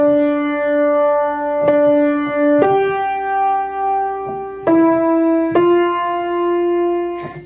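A short melodic phrase of single held notes played on piano, stepping upward through about five sustained tones, each struck cleanly and left ringing, moderately loud with no talking.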